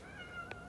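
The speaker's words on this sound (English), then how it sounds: "you can hear my kitten in the background." A pet kitten meows once, a short, fairly clear call in the background over a steady low room hum, with no talking.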